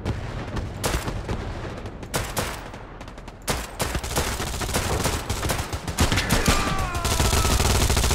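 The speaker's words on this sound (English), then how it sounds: "there's a lot of explosions" Dense battlefield din in a shooter video game: rapid gunfire bursts and machine-gun fire layered with booming explosions, continuous and loud throughout with no speech.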